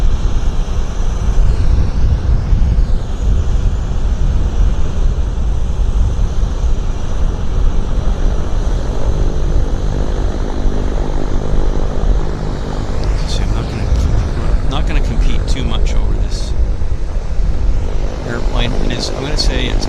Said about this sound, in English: They're starting engines on this Beech 1900C model.